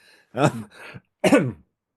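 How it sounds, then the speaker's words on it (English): A couple of rough throat-clearing coughs close to the microphone, two short bursts separated by a brief pause, with no talking. "excuse my cough"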